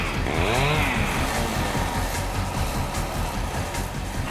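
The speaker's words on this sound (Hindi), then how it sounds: "हम तुम्हें कुछ बाइक्स की आवाजें सुनाएंगे" A motorbike engine played back as a recording, a rough, buzzy engine drone with a brief rising whine near the start, then a steady throbbing run at moderate volume.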